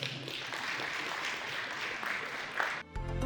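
Audience applause at an opening ceremony of an anniversary celebration, steady moderate clapping throughout, cut off abruptly near the end by a different sound.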